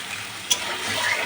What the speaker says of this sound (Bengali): ওই কড়াইয়ের তেলেতে মাংসটা ভেজে নেবো ভালোভাবে কষিয়ে